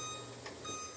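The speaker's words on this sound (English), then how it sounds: "we'll set our timer" A kitchen timer beeps twice in short electronic bleeps as it is set while jam cooks on the stove, quiet and close with no talk.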